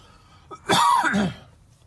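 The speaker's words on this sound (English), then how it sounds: "excuse me, I'm going to cough." A single harsh cough, close and loud, preceded by a short breath, then quiet.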